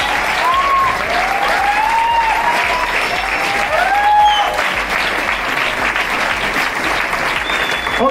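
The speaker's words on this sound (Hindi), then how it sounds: "थोड़ा ताली बजाओ।" An audience at an indoor gathering in Prayagraj breaks into sustained applause, a dense, steady roar of many hands clapping, with a few faint voices and whistle-like tones riding above it.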